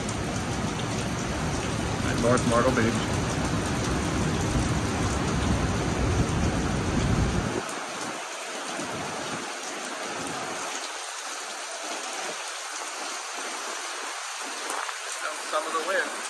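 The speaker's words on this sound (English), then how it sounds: "That's not fog. That's a wall of water from one of the" Heavy rain band from Tropical Storm Debby pouring at North Myrtle Beach, a dense roaring downpour with a broad hiss that drops off abruptly halfway, leaving lighter rain and wind under someone talking.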